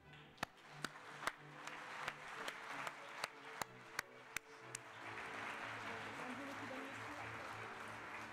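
Audience at a hotel school graduation ceremony applauding restaurant and hotel staff called on stage; a run of sharp, evenly spaced close claps gives way to a broader, softer wash of applause with faint murmuring beneath.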